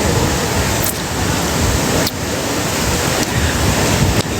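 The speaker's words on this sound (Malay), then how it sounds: "Kuat betul angin ni." Strong wind roars over a beach at night, a continuous loud rush of noise mixed with surf and buffeting gusts against the microphone.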